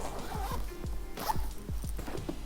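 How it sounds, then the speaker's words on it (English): A pocket zipper being unzipped on a Peak Design Roller Pro carry-on suitcase, a series of rapid ratcheting zip pulls close to the mic, heard alone. "Looks like you can also unzip"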